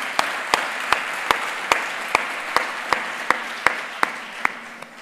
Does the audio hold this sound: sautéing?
no